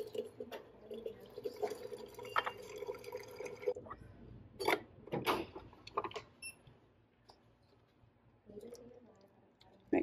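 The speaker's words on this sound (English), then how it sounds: "we're going to fill half of the cup with hot water" Hot water is poured into a cafe cup over a tea bag while making a London Fog, giving a quiet liquid pour with clicks and clatter of handling, then a few scattered knocks and a short second burst near the end.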